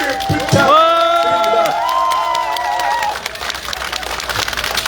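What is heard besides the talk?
crowd cheering and applauding at a campaign rally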